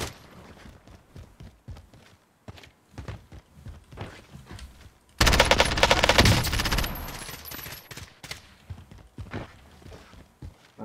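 Automatic gunfire erupts loud and sustained in a Call of Duty Warzone match, a dense burst of rapid shots after a stretch of scattered footsteps and lighter shots, then tapering into intermittent fire.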